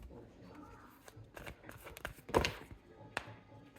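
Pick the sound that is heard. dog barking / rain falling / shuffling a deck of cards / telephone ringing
shuffling a deck of cards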